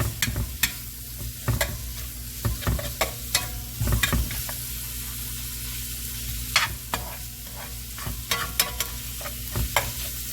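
Pork finishing in a pan hisses and sizzles steadily, broken by frequent scraping strokes and knocks of a stirring utensil, close up and with no voices.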